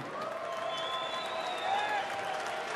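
Baseball crowd applauding as a former Giants third baseman steps up to bat at a Reds–Giants MLB game, a steady wash of distant clapping and murmur with faint whistling tones running through.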